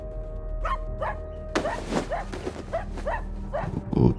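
A dog barks repeatedly in short, sharp bursts at an uneven rhythm, fairly close and loud, alongside a faint steady low hum.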